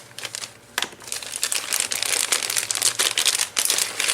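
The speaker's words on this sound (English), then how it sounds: "So I cut open the bag." A plastic parts bag for an RC car transmission swap gets cut open, giving close, loud crinkling and rustling in irregular bursts for a few seconds with no talk over it.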